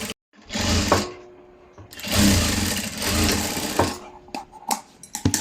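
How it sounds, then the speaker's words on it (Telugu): A sewing machine stitches folded cloth around the hem of a long frock, running in three loud bursts of whirring with short pauses between them, close up and with no talk. "ఇలా ఫోల్డ్ చేసుకొని కుట్టుకోవాలి రౌండ్గా"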